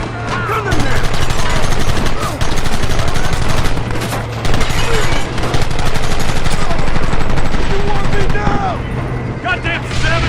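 A loud, dense shootout in Red Dead Redemption: rapid overlapping gunshots crackle almost without pause, with voices shouting over the continuous fire.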